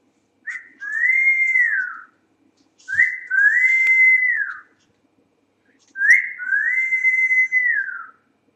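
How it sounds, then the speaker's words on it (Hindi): A man whistles three clear melodic phrases, each a short rising note followed by a longer sustained tone, separated by brief pauses in a quiet room. "सीटी भी अच्छी बजाता हूं"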